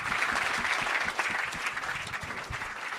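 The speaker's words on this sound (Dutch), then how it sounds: "Graag nog even een mooi postuum applaus." A theatre audience gives posthumous applause, a full, sustained clatter of many hands at moderate volume, even and unbroken from start to finish without any talk.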